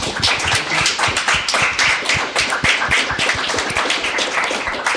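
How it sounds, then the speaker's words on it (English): Audience applause at a climate journalism café event in Campus Hybernská, a dense, steady patter of many hands clapping close by throughout, with no voices. "So join me in a round of applause, please."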